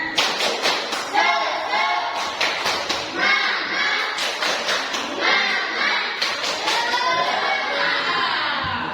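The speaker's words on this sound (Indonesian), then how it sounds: "silakan kita tepuk semangat dulu, ya" A classroom of pupils performs the 'tepuk semangat' spirit clap, a patterned chant-and-clap routine: bursts of rhythmic group clapping mixed with children's voices calling out in unison, fairly close and lively throughout.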